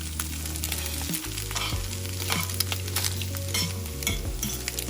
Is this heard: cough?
no